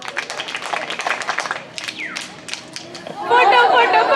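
A group of college women at a guiding camp clapping together for a photo, quick loud claps at first, then voices calling out, followed by a burst of louder, denser applause.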